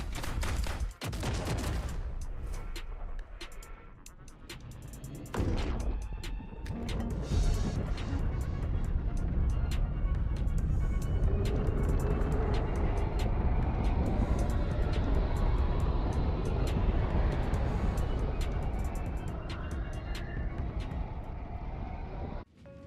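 Helldivers 2 launch sequence: a loud, continuous roar of engines and rumbling thrust builds after a few sharp bursts, with crackling, gunfire-like impacts layered through a dense, sustained wall of noise.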